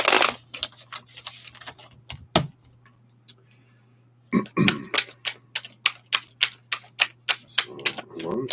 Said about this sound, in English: let's shuffle these up here.